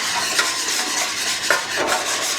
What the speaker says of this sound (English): we're going to whisk all this goodness together